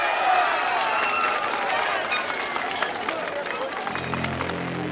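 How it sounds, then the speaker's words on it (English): A roadside crowd cheers and claps as a rider crosses the finish of a 1983 Tour de France stage, a dense roar of applause and voices that swells at first and then slowly thins, with a low engine rumble joining near the end. "each night there's a special cheer as he finishes yet again"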